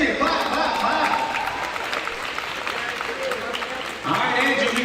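A high school crowd at a college signing day keeps applauding, a steady wash of clapping throughout with a voice heard over it.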